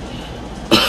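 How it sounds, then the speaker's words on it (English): A pregnant woman ill with Covid gives one short, sharp cough at the very end, after a stretch of quiet room tone. "like this, wanting to cough."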